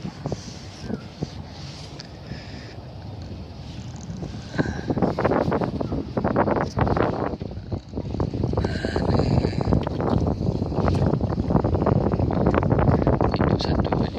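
Strong wind buffeting a small boat on the Kapuas river during freshwater prawn fishing, a loud continuous roar with rattling gusts that builds toward the end, with voices talking over it.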